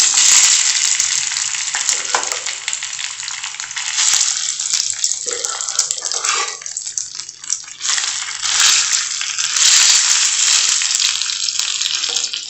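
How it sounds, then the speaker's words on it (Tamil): Cooked pongal is tipped into a pan and stirred for sweet sakkarai pongal, giving a continuous sizzle under repeated scraping and mushy stirring strokes, close and loud, with no talk. "நம்ம இப்போ குக்கர்ல வேக வச்சு வச்சிருந்த பொங்கலை இப்போ இதில் சேர்த்துடலாம்."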